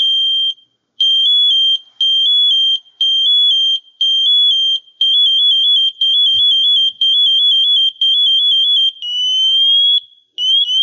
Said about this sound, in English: there's that pre-pass alarm